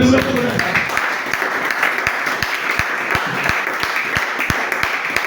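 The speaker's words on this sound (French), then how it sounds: "Acclamons d'abord le Seigneur." Congregation applauding during a French-language church service, steady rhythmic group clapping with voices mixed in, loud and close.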